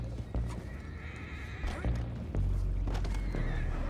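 Horses in the Red Dead Redemption 2 game whinny and neigh repeatedly beneath a steady low rumble, with the clop of hooves and occasional thuds mixed in.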